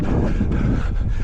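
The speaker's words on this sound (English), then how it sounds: "we have that wind behind us" Wind buffets a microphone during a parkrun along Felixstowe, producing a steady, close, low blustery rumble with no voices.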